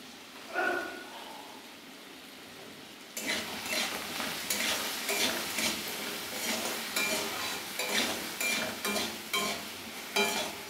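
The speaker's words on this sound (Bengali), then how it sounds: "আলুটা ভাজা হতে হতে আমি মশলাটাকে রেডি করছি।" Potatoes with salt and turmeric frying in a pan for a vegetarian banana flower dish, a soft clatter and then steady close sizzling broken by rhythmic stirring scrapes of a spatula against the pan, with no talking.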